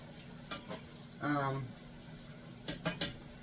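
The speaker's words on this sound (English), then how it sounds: "We're going to stir those up a little bit." Frozen chicken pieces being stirred in a pan, with soft sizzling, a few clanks of a utensil against the pan and a brief burst of frying, all quiet and close; a person speaks briefly in between.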